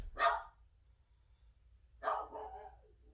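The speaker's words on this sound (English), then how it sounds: "And Star's going to bark, so I do apologize" A dog barks twice, a sharp bark followed by a longer one after a pause, fairly close in an otherwise quiet room.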